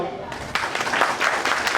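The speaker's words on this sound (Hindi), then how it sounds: "एक बात तो इनके लिए ताली बजाओ" An audience at a community organisation's anniversary function breaks into applause, a dense patter of clapping that starts after a brief lull and continues steadily with a few voices mixed in.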